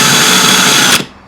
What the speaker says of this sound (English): slowly drill your way through to the inside of the fire extinguisher